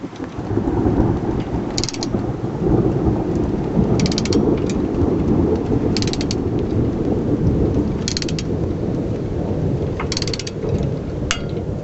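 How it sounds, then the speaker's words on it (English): Thunder rolls overhead as a storm approaches, a continuous heavy rumble under steady rain, with intermittent metallic ratcheting clicks from a torque wrench nearby. "just as the thunder rumbles overhead"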